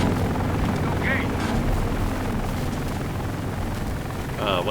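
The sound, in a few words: helicopters in video game Secret Files 3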